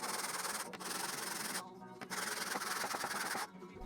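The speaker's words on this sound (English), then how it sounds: "After a bit of sanding" Hand sanding of wood pieces cut on a DeWalt DW745 tablesaw gives a steady, close rasping rub that continues in long strokes with brief pauses, quiet overall.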